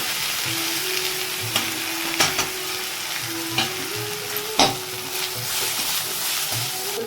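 Pointed gourd and potato pieces fry in hot oil in a pan, a steady close sizzle with occasional scraping stir clicks and a faint tonal hum underneath, no voices.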